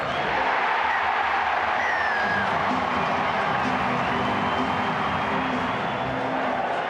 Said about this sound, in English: Here comes the TRY, and listen to this capacity crowd.